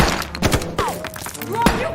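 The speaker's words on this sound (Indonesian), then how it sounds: "tiba-tiba saja sebuah tembakan langsung melesat" Gunfire in an action film about a sniper fighting cartels sounds as several sharp bangs and thuds in quick succession, mixed with whooshing effects and a voice talking over them.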